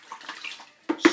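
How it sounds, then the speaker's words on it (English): A paint brush dipped into a bucket of water gives soft watery swishes, then two sharper, louder sloshes close by at the end. "it's just a simple matter of dip them in a bucket of water"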